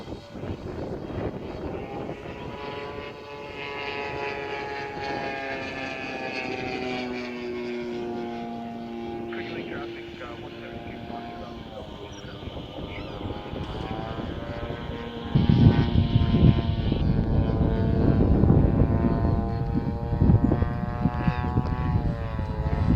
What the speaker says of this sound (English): we will be showing the airplane flying in autonomous mode in flight